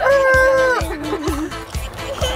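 Among a flock of about 50 roosters, one crows loudly up close, followed by a rapid run of clucks and fowl chatter, with a pig kept among them.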